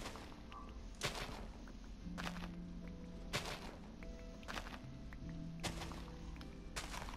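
Dirt block punched apart by hand in Minecraft: a series of six dull thunks at a steady, unhurried rhythm, each a short broadband knock over a soft, constant background of sustained game tones.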